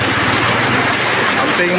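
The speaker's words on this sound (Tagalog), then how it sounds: "Grabing ulan na ni kakusog." Heavy rain falls as a dense, steady roar that fills the whole short stretch, loud and close with a low rumble beneath, and a voice may be talking under it.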